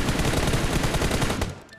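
Dense, continuous automatic gunfire from a battle royale video game knocks down an enemy, a loud, close, noisy burst that cuts off near the end.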